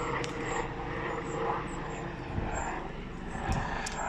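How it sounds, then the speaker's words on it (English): Helicopter passing overhead an allotment, a steady distant engine drone beneath outdoor ambience and faint birdsong, holding at a moderate level throughout. "Looks like we have a helicopter going overhead."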